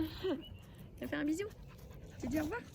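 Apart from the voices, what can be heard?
dog panting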